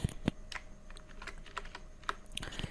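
Keystrokes on a computer keyboard while text is entered in Canva, a scattered run of about a dozen crisp clicks with uneven spacing, close and moderately loud, with no talking.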